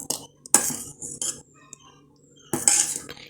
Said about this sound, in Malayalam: ഇനി മാവ് കട്ട പിടിക്കാതെ വണ്ണം നല്ലതുപോലെ നമ്മളിങ്ങനെ കലക്കി കൊടുത്തോണ്ടേ ഇരിക്കണം